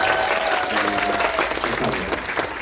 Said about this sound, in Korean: 도전하실 리더님들 박수 한번